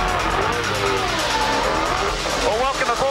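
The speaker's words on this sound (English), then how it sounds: "welcome aboard the Kmart car from the Kmart inside line" Onboard a 2002 V8 Supercar, the Kmart car, at Barbagallo Raceway: a loud, constant engine roar with rising and falling pitch as it revs through gears, someone talking over it throughout.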